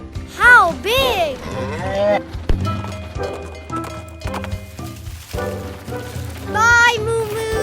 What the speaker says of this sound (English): Big cow!